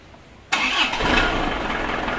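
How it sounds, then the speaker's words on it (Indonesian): A car's engine starts after a quiet pause with a sudden crank and catch, then settles into a steady, loud idle close by. The setting is a campervan fitted with an added battery and auxiliary lights. "kita coba, kita nyalakan mobilnya"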